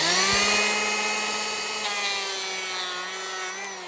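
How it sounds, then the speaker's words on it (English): An electric hand planer shaves a high spot along the edge of a slab door, a loud close continuous whine that trails off slightly as the pass ends. "the first thing I'm gonna do is hit that high spot with the planer"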